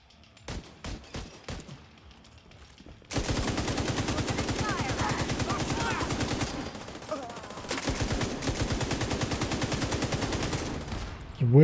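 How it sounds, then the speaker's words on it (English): Video game gunfire from a sniper rifle in a battle, with a few sharp early shots and then long stretches of dense, rapid firing and explosive crackle filling the scene, loud and close. "Oh yeah, I have a sniper rifle."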